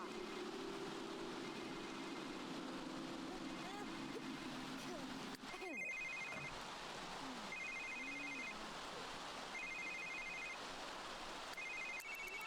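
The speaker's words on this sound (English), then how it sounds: "James is getting another phone call" Telephone ringing in The Sims 3, a repeated electronic ring in short evenly spaced bursts over several seconds, fairly faint against a steady hiss of background noise and a voice talking earlier.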